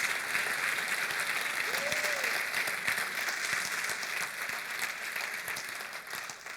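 A church congregation applauds steadily for several seconds, a dense wash of clapping that holds even and fairly loud before easing slightly toward the end, with a brief voice heard faintly within it.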